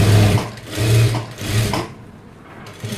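A sewing machine stitches a puff sleeve blouse seam in three short bursts of quick, close motor whirring, each followed by a brief stop, then quiet.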